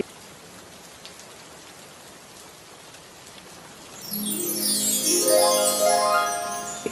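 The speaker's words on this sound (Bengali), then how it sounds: "এখানে বসে বসে বাইরের বৃষ্টি দেখছি" Steady cartoon rain falls outside as a soft, even hiss, joined after about four seconds by louder chiming, sweeping musical tones that ring over the downpour.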